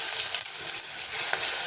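Spices, fenugreek seeds and ginger-chili paste sizzle in hot oil for okra kadhi, a close, steady frying hiss with soft crackles and no talk.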